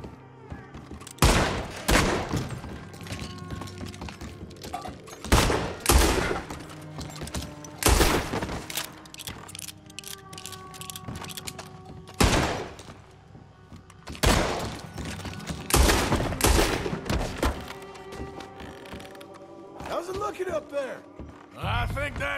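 Gunfire in the video game Red Dead Redemption 2, loud sharp shots in irregular bursts and single cracks spread across the scene, with voices talking in between.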